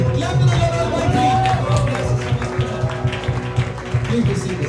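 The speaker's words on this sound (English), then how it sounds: "Give a big clap to the Lord Almighty." Congregation clapping together in a church service, a steady, dense round of hand claps filling the hall over a low musical bed and faint murmur of voices.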